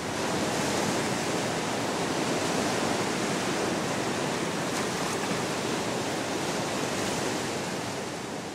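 A great mass of water rushes and crashes back together in a steady, broadband roar that holds constant and loud throughout, with no voices.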